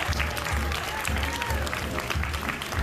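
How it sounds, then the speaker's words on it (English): Theater audience applauding a Scotts Valley stage performance of Frog and Toad, a full, continuous round of clapping with some crowd voices mixed in and low thumps underneath. "I'm clapping for Frog and Toad"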